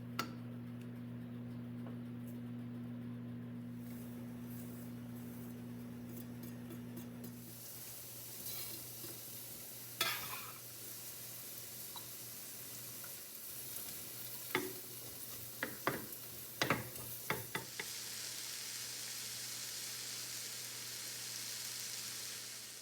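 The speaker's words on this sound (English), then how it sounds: "saute half of an onion, about a cup of celery chopped up, and a little bit of garlic" Onion, chopped celery and garlic sautéing in a pan, a steady soft sizzle with occasional stirring clicks and scrapes of the utensil against the pan, close by and without talk.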